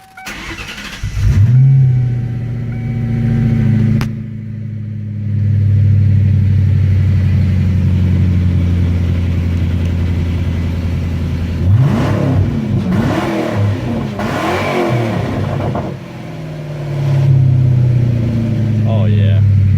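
A 1994-2004 Ford Mustang V8 running with its exhaust removed, a loud raw rumbling idle with several sharp revs climbing and falling, close up, with a voice speaking briefly over the engine.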